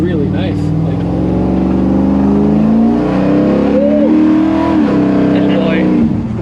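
A 1972 Ford F100 pickup with a big-block V8 rumbles loud and close, its deep throaty engine note swelling and easing through revs for several seconds.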